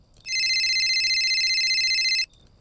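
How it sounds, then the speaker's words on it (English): A mobile phone rings with a single sustained electronic trill lasting about two seconds, loud and close in an otherwise quiet room, then cuts off abruptly. "Claire's phone rang,"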